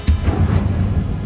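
The Incendio fire spell from a Harry Potter video game goes off as a short, deep, booming whoosh of flame, loud and close, fading within about a second.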